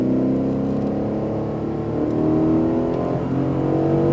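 Close engine roar of an Aston Martin Vantage F1 Edition on a racetrack holds steady and loud, its pitch climbing gradually as the car accelerates, a continuous drone with no talking over it.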